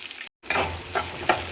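Garlic, onions and green chilies fry in an oiled pan with mustard seeds, fenugreek and cumin, a close, steady sizzle broken by a brief silence and a few stirring scrapes.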